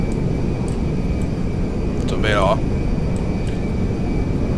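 Boeing 747 jumbo jet in Grand Theft Auto 5, its engines a loud steady low roar throughout, with a brief rising whine partway through, while someone talks over it.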